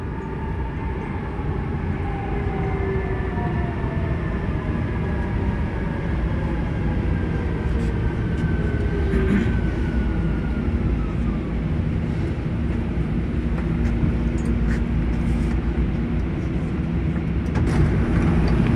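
An MRT-3 train runs along EDSA between Quezon City and Pasay City, a steady rumbling roar of wheels and carriage noise with faint whining tones rising and falling, continuous throughout.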